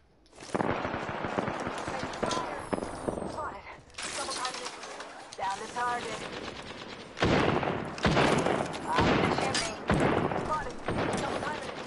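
Rapid bursts of video game gunfire crackle throughout, loud and close, mixed with game effects and someone talking over the shooting.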